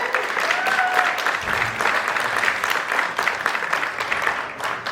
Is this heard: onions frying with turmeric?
no